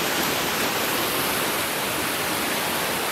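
Creek water flows in a continuous broadband rush on a flood-hit farm after a typhoon, loud and close, with no talking over it.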